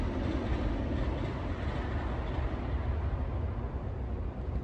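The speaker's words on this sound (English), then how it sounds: "train." A train rolls past close by, a loud, steady rumble of rail cars with clickety-clack wheel noise running through the whole stretch, no voices.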